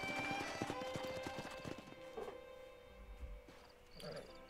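Horse hooves clip-clop in the Red Dead Redemption game, a steady trotting rhythm fading under ambient game music and sounds before trailing off.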